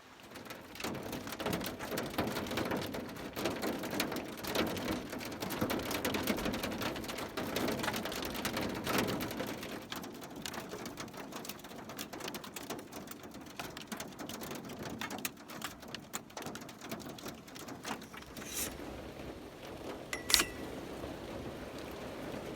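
Steady storm rain drums on the roof of a camper van at night, a dense, continuous patter close overhead with a few sharper hits near the end and no voices.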